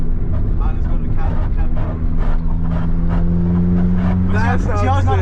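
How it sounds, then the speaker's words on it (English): Idling and revving engine of a MK4 Volkswagen GTI 20th Anniversary Edition with a new exhaust on 2-step launch control, with popping backfire crackles throughout, loud and close under excited talk. "This is so much backfire, bro."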